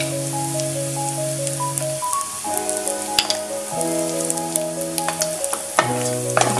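Onion and peanuts fry in a pan with a steady sizzle and rain-like crackle, while a stirring utensil scrapes and taps now and then over a sustained tonal hum, close and without speech.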